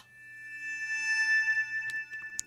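A high, glassy bowed-string pad from Omnisphere's Glacier Bowing patch, low end trimmed away, holds a steady sustained tone alone for a couple of seconds, with a few faint clicks near the end.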